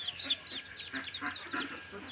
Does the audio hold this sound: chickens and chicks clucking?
yes